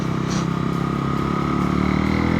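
A KTM Duke 390 motorcycle ridden up the Phonda Ghat road on a rainy day gives a steady, close engine drone that holds without a break, with no talk over it.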